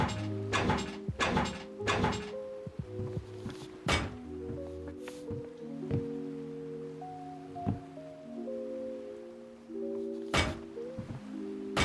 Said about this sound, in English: Now you're ready to place all of your doors and windows.